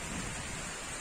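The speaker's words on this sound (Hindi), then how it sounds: "ये बारिश बहुत ज्यादा बारिश आ गई है" Heavy rain pouring down at Wandoor beach in the Andaman Islands, a dense, steady hiss of downpour filling the whole second, close and loud with no talking.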